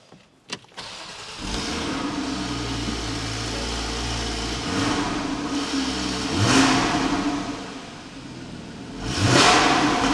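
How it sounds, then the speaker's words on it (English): A Porsche 981 Cayman 2.7 with a manual gearbox cranks and fires up, a short starter whirr followed by a steady close idle. Two louder blips swell briefly before it settles back. "Let's give it a little start,"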